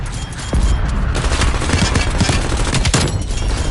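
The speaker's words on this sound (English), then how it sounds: "Cruise missile inbound." Cruise missile strike in Call of Duty Cold War, a continuous barrage of heavy, booming explosions and crackling blasts, loud and close throughout with no pause.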